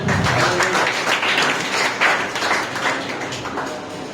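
A church congregation at a Sunday service breaks into loud, dense applause that fills the room continuously, tapering slightly toward the end.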